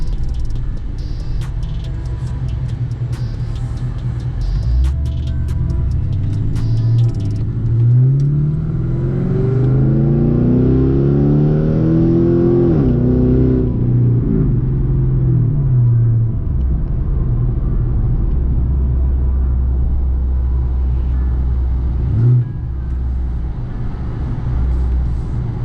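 A Pontiac G8's engine rumbles loudly close by, with a rising and falling rev in the middle before settling back to a steady idle rumble.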